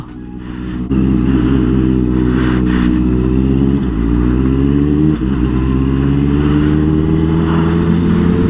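A big-bike motorcycle engine runs loud and close while riding, a steady mid-pitched drone that climbs slowly in pitch, with brief dips as gears change; no voices.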